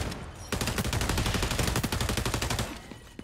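Rapid automatic gunfire in the online shooter XDefiant, a dense burst of shots that starts abruptly and keeps a steady, loud rhythm for about two and a half seconds before tapering off.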